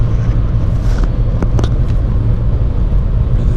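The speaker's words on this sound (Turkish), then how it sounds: "maalesef biraz e, rüzgar sesi var arabada" Steady wind and road rumble inside a moving Volkswagen 1.4 TSI DSG car, a loud continuous low roar filling the cabin with a few brief faint higher clicks.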